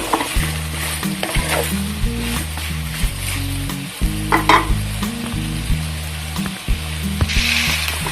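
String beans hit a hot pan for a Filipino coconut milk vegetable dish with shrimp, giving a close, steady sizzle broken by stirring clatters and bursts of louder spitting.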